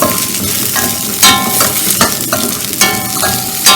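Onion and garlic sautéing in a pan for chutney, a steady loud sizzle broken by repeated scraping stirs and clinks of a spoon against the pan, up close.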